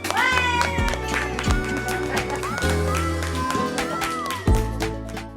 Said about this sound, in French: Et si on applaudissait Laurent aussi?